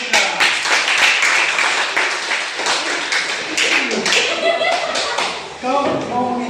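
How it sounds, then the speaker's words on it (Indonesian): A classroom of students clapping hands, with crisp, uneven claps and taps up close, mixed with voices talking and calling out over them. "Tepuk tangan."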